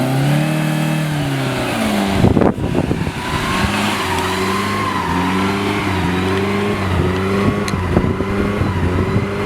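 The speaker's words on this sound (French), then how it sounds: "La voiture peut enfin se rouler." A car engine revs loudly and continuously as the car pulls away, with a brief thump early on and steady accelerating drone throughout.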